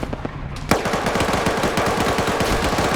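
Heavy machine-gun fire in a video game battle, opening with a few scattered shots and then a close, loud, rapid continuous burst that rattles on without pause, with no talk over it.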